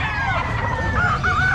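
A bull stag rooster crows close by at a busy pet market in Calumpit, a drawn-out wavering call over a background of crowd murmur.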